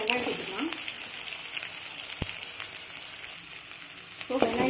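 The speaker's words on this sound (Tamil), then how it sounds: "இப்போது வெங்காயம் சேர்த்து நல்லா வதக்கிக்கலாம்." Onions sizzle in hot oil in a pan with fennel seeds and green chilies for a mutton blood fry. The frying is a steady, close crackle with a few brief stirring knocks.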